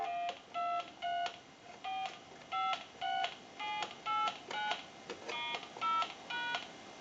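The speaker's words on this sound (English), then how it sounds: "We want to dial our numbers." A crank wall telephone converted to touch-tone dials a number, giving a steady run of about a dozen short tone pairs, each clear and evenly spaced with brief gaps, fairly close and with no talk.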